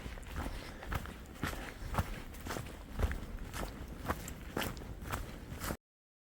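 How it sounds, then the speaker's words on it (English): Steady footsteps of hikers walking along an easy stretch of the Appalachian Trail, a regular rhythm of crunching steps close by over outdoor ambience, with no talking. "right now it's pretty easy walking"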